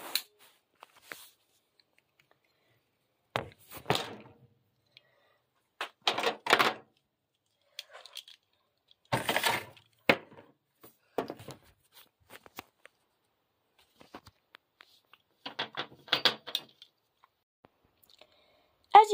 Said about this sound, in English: to put the missile in the missile launcher, all you have to do is push the missile down until you hear the click